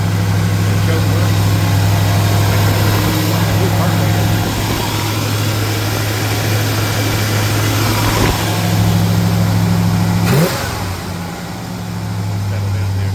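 1965 Pontiac GTO with a 389 engine idling after a cold start, a steady low rumble throughout, with a brief rev or blip near the end.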